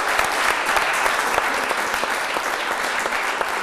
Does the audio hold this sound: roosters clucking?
no